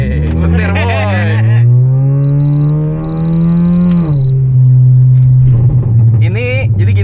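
Engine of a car at a workshop, started and revved in a steady rising drone that climbs then drops, loud and close, with voices talking at the start and end.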